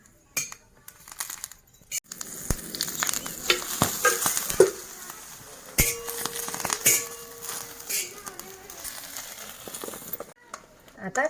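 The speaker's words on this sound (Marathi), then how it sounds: "आधी शेंगदाणे भाजून घ्या।" Peanuts being roasted in a pan, with a spoon stirring and scraping so the nuts rattle and clink in irregular close bursts, a faint sizzle underneath.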